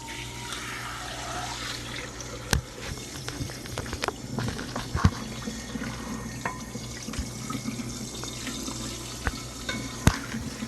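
Tap water runs steadily into a sink while food is cooled under it in a home kitchen, a continuous splashing stream with occasional clinks of a strainer or dishes nearby.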